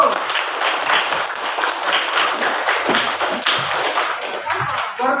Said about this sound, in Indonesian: Ada tepuk tangan dulu.